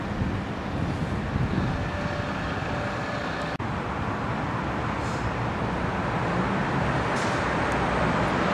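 Airplane passing overhead near a fence in Victoria, BC, a continuous broad roar blended with wind buffeting the microphone and distant road traffic, holding steady throughout with one sharp click midway.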